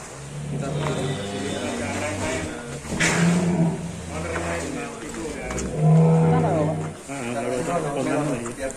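Full blood Black Angus cattle named Douglas being led out of a pen, with low moos rising over continuous talk from several people and background engine rumble.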